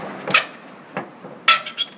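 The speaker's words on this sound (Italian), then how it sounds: "Ora, con uno scalpello, un martello e una tenaglia andiamo a svincolare" Hammer driving a chisel to free the top of an antique domestic wooden table from its base during restoration: four or five sharp, close knocks at irregular intervals, with no talk.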